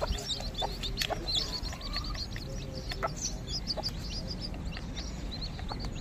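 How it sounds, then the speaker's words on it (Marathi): A hen clucks softly nearby while chicks peep in high, rapid chirps throughout. "कोंबडी जे आहेत ना आपल्या पिल्लांना शिकवत आहेत"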